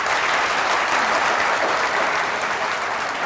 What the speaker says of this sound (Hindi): तहरीक इंसाफ के लिए तालियां बज रही हैं